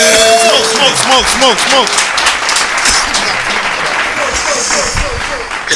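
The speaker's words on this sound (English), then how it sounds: "Clap it up." A few people clap along loosely on a casual talk show set while voices keep chatting over the clapping, with the talk dominating.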